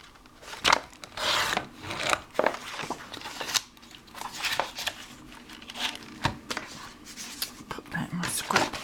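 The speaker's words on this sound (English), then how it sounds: "Just going to cut this wonky edge off a bit." A cutter trims a wonky edge off paper, giving a run of scraping, rasping strokes and small knocks spread over several seconds at close range.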